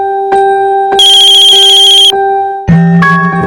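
A phone ringtone plays loud and close: a few clear electronic tones chime in quick succession, then a brighter, busier melodic burst, alone with no talking.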